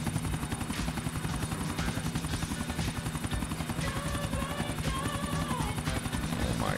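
Helicopter in the video game Grand Theft Auto IV: The Ballad of Gay Tony, steady rotor chop thumping at an even rapid rhythm, fairly close, with faint game sounds mixed in and no speech.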